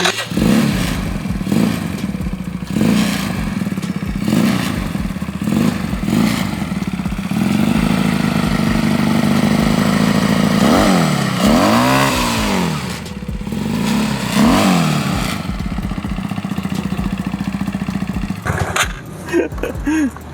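A modified two-cylinder Yamaha Nouvo scooter engine runs loudly and steadily, with several sharp revs mid-way that climb and fall, then settles back to a rough idle.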